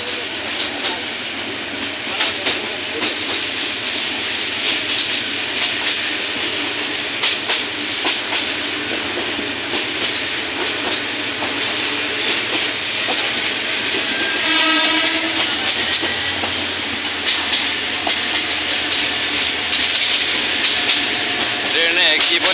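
A train rolls across a bridge, the steady rumble and hiss of the wagons heard from on board, with rhythmic clatter throughout and a brief horn-like tone midway; people talk faintly beneath it.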